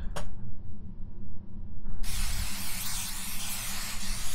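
In the video game Love, Sam, a brief click is followed by a loud, continuous hissing spray that starts abruptly halfway through and keeps going to the end, with no talking over it.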